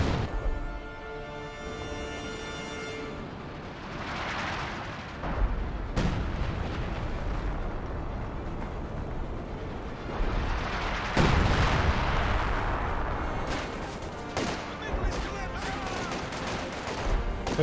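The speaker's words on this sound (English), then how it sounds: "Another heavy mortar barrage there." A heavy mortar barrage in the Company of Heroes 2 battle: a run of deep, rumbling shell blasts and thuds that overlap into a continuous roar, with a game commentator talking over it.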